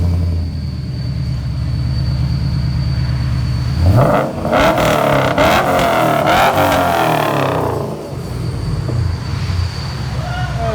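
A 2000 Pontiac Firebird with a 5.7L V8, dual exhaust, muffler delete and MagnaPacks idles with a loud low burble, then revs sharply into a roaring blip lasting a few seconds before settling back to a rumbling idle.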